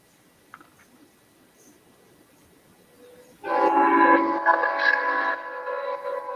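A northbound train passes after several seconds of near silence, arriving suddenly as a loud, harmonic, horn-like blare and rumbling wagon noise. The sound stays strong and steady to the end.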